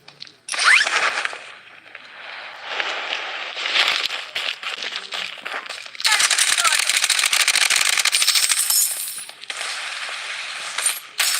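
Gunfire in a battle royale video game: bursts of rapid shots and mechanical clatter come through loud and close, with stretches of dense firing and game voice callouts mixed in.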